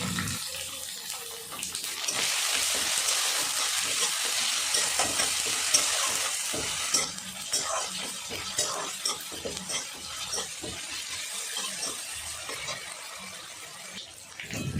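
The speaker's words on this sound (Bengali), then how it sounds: "টমেটোটা দেওয়ার পরে ভালো করে আমি কষে নিয়েছি।" Chopped tomato fries in a pan for mung dal, stirred continuously: a broad, hissing sizzle holds steady for about seven seconds, then gives way to softer, irregular scraping and stirring strokes close by.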